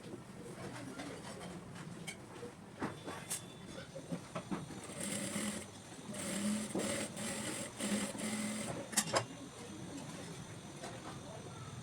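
A sewing machine stitches fabric pieces for a handbag, a steady mechanical whir with short bursts of stitching at low to moderate volume, with a voice talking over it now and then.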